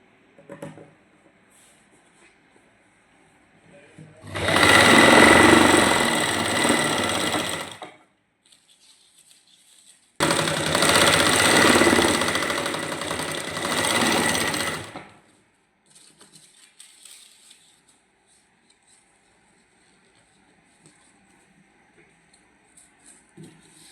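A sewing machine stitches lace onto a salwar in two sustained bursts of rapid whirring, close and loud, separated by a brief pause, with quiet handling noises around them.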